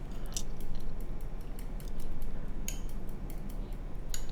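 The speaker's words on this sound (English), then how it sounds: "So we'll just continue whisking as we wait for the butter to get up to temp in the pan." Eggs being whisked in a bowl for an omelette, a quick, steady run of light metallic clicks and taps against the bowl with a soft wet swish underneath, close and continuous.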